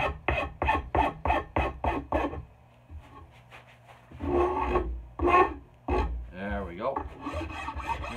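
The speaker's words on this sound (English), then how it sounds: "I'll just keep working my way up the handle, smoothing any of the lines or bumps out as we go along." A rasp scrapes along a cruiser axe handle to smooth it, first in a quick, even series of about eight close strokes, then in slower, irregular passes.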